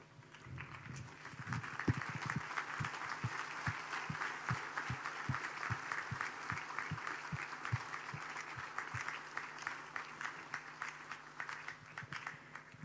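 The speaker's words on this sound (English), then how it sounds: "May I ask all the delegates, we stand up and give them a loud applause." Delegates at a conference rise and clap together in a sustained, dense round of applause that fills the room for the whole stretch, with a few sharper claps standing out near the front.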